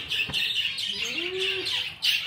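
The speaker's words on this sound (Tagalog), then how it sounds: "Mga ibon." Birds chirp and twitter steadily close by in a dense, bright chorus, with one rising whistled call standing out briefly.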